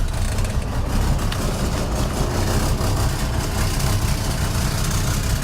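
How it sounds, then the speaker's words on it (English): A 1968 Rover P5B Coupe engine idles with a blowing exhaust, giving a rough exhaust rumble, steady and loud throughout. "You can probably hear the exhaust is blowing."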